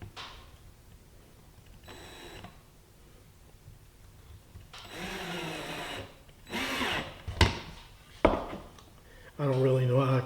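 A power drill driving pocket screws into a small wooden stool, heard in several short whirring bursts of rising intensity separated by pauses, with someone talking in between.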